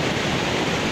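Nam Kat Yorlapa waterfall roars as a steady, dense wash of rushing water, loud and close with no voices over it.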